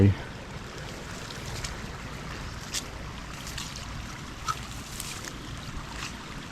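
Steady broadband rush of flowing water, continuous and fairly close, with a few faint splashes standing out.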